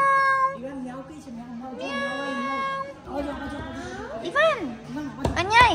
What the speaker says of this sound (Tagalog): Ivan, meow.